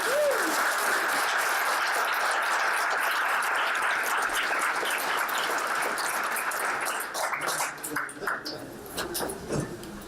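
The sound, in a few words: audience applause for Jeff Archibald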